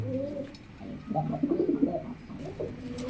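Soft, low pigeon cooing in a few rolling bursts, close by, against a quiet background hum.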